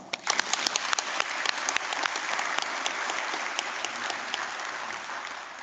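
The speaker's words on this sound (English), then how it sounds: "I think you should give yourselves a big round of applause" A graduation ceremony audience at a city college bursts into applause, sharp individual claps at the start swelling into dense, even clapping that holds steady throughout.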